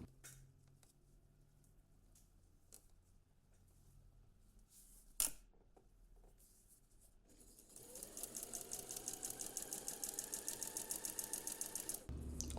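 A sewing machine stitches a seam on a western blouse, starting after a quiet stretch with a few light handling clicks and running steadily for about four seconds in a fast, even hum before stopping abruptly.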